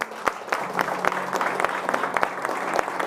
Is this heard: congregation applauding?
yes